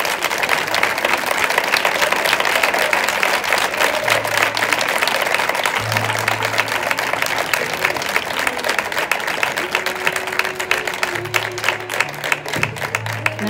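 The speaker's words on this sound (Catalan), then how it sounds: "Doncs aquest fort aplaudiment va per tu" A crowd at a sixth-grade graduation ceremony breaks into loud, sustained applause, thick continuous clapping with occasional voices and cheers mixed in.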